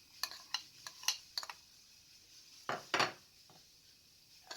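Potatoes and an egg go into a mixing bowl for an egg and potato sandwich, with a series of light knocks and clinks against the bowl, then two louder scraping thuds, quiet and close with no talk.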